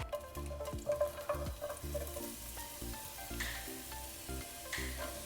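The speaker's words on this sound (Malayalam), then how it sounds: "സവാള ഇട്ട് ഒന്ന് വഴറ്റി വന്നാൽ മതി" Onions sautéing in canola oil in a hot pan, a steady quiet sizzle with intermittent clinks and scrapes of stirring, with no voices.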